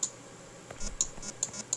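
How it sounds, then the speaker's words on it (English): Fingers type on a QWERTY keyboard while entering an address, a run of crisp close key clicks in an uneven rhythm with several sharper taps standing out, no voices. "I'm using a QWERTY keyboard here to enter in the client address."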